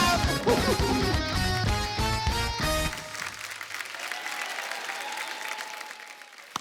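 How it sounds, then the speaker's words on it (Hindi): A studio audience at a Hindi TV comedy show claps loudly over a burst of music that cuts out, then the applause carries on steadily and a little softer. "जोरदार तालियां हो जाए।"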